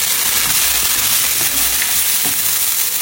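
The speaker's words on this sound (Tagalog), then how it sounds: "Sa pagluluto naman, bali ginisa ko lang yung sibuyas sa kamatis." Onion and tomato sauté in a pan for sinigang, producing a loud, dense, continuous sizzle close up, with faint stirring sounds beneath.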